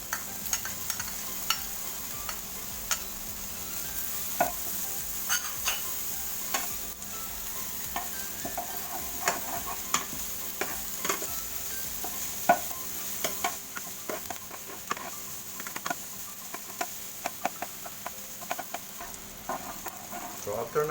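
Garlic and onion sauté in a pan as the base for Bicol-style bopis, a continuous close sizzle punctuated by frequent clinks and scrapes of a stirring utensil over about twenty seconds.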